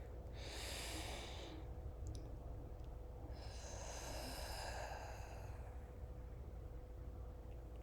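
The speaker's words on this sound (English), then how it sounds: "Take a breath with me." Two slow, deep breaths close to the mic, each a soft airy inhale followed by a longer exhale, over a quiet low background hum.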